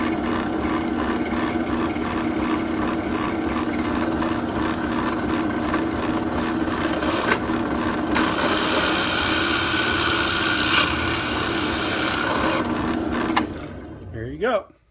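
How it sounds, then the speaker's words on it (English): Power drill boring holes through purpleheart wood for a fidget spinner, a steady motor whine running continuously for about thirteen seconds before spinning down, with a short voice near the end. "Now we should have some perfectly drilled holes."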